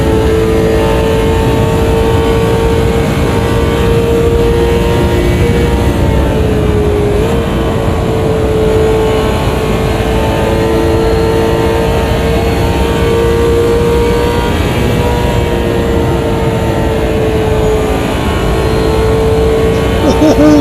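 Race cars running side by side on a circuit, a loud continuous engine drone with steady tonal harmonics and slight pitch shifts throughout, with a spotter's voice talking over it.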